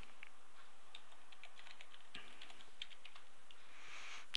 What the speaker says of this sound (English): once we've keyed in the password